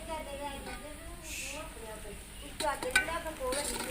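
Water bubbling at a boil in a pan before semolina is added for sooji halwa, a low hiss and simmer under a person talking, with a couple of light clinks near the end.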